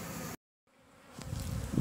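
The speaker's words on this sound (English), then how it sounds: "most of the bees have made it in. Some more still making their way in now" A honey bee swarm hums as it settles into a box, its dense buzz cutting out briefly and then swelling back louder and closer.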